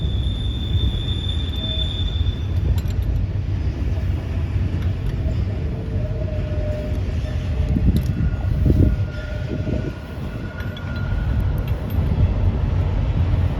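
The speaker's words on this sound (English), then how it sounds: "That's what we listen to every day right there at the train behind the shop." A train passes behind a shop in a loud, continuous rumble of rail wagons, with some faint wheel squeal and clanks. It swells and eases over about fourteen seconds, and no one talks over it.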